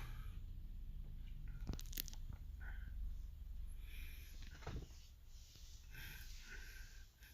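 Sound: crunchy chewing of radish kimchi (kkakdugi) with gukbap

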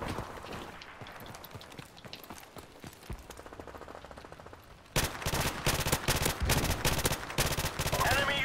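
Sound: rapid gunfire in Call of Duty video game

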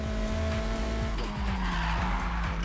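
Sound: car handbrake skid in Need for Speed Heat video game

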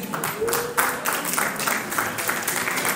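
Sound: audience clapping hands

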